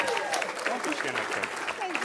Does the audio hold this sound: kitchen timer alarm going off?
no